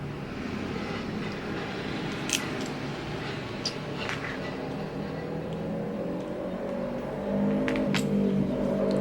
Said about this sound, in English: Sorry about that motorcycle.